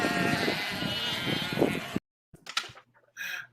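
Loud sheep bleating for about two seconds, then silence broken by a few short noises and another brief bleat.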